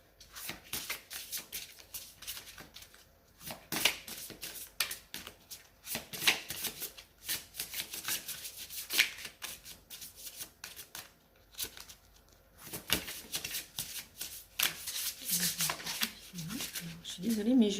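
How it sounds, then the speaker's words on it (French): Tarot cards shuffled by hand in a quiet room, with repeated riffling, brisk bursts that come in uneven waves for the whole stretch, and brief pauses between them. A voice is heard near the end. "mes jeux n'ont pas envie de se mélanger en ce moment"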